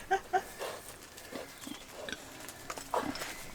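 Pigs on a farm grunt and snuffle in a few short bursts, fairly close, amid faint outdoor background noise.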